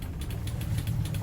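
A Smokercraft 172 Osprey boat engine idles low and steady, a continuous rumbling hum with a faint periodic pulse, close and alone with no talk.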